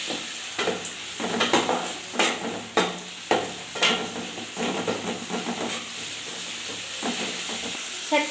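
Garlic, tomato and cumin sautéing in a pan, with a steady sizzle and hiss under irregular stirring scrapes and clinks from a utensil, close and moderately loud, with no talk.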